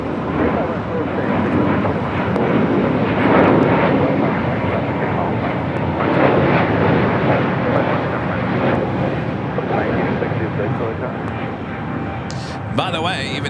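An airliner takes off from runway 25 right at LAX, its engines a steady, broad roar throughout, with faint voices in the background.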